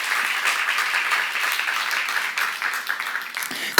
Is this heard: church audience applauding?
yes